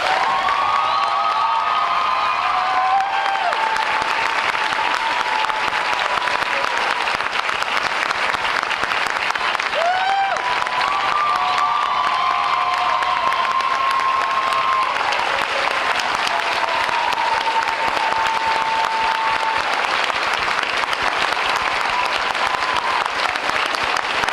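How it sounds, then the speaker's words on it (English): Audience at a school district convocation giving a sustained round of applause for two honored high school students, steady dense clapping with a few whoops and whistles rising above it. "Let's give them a round of applause."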